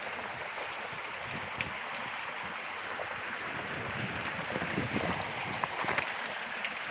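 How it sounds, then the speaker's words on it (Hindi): Heavy outdoor rain during the rainy season: a steady, dense hiss of downpour that holds at an even level throughout, with no voices over it. "बारिश माहौल इतना खतरनाक है।"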